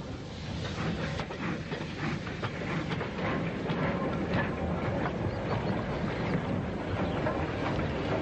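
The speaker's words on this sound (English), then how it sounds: "an Ivat Mogul shunts the stock of its train from Oswestry" An Ivatt Mogul steam locomotive shunts passenger stock at Whitchurch station, giving a steady, moderately loud rumble of rolling wagons with faint rhythmic clanks and hiss throughout, no voices.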